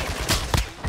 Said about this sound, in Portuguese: Meu Deus, que é um tiro.